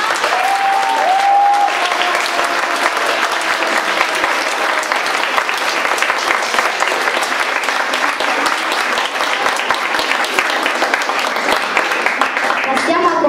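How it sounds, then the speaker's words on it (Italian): Audience applause at a youth theatre event in Milan, sustained steady clapping from a sizable crowd lasting over ten seconds, with a brief whistle or cheer early on. "Un ringraziamento e un applauso a tutti i ragazzi di Milano."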